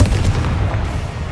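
Confringo fire-blast spell in Hogwarts Legacy gameplay on PS5, a loud, close, booming burst with heavy low rumble filling the short moment.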